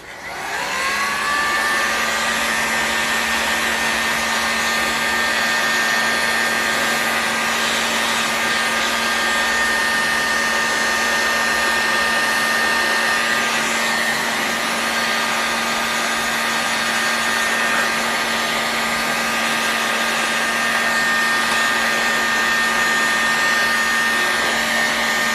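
A heat gun blowing on an OS 160FX engine case to free a bearing, a loud continuous close whine and rush of air with a steady pitch throughout, and no speech.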